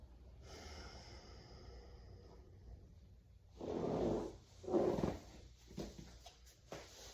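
Slow, deep breaths during a lower-back stretch on a ball: two strong, close breaths in the middle, with softer breathing and faint rustles around them in a quiet room.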